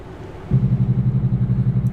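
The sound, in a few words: truck engine Jake brake in American Truck Simulator video game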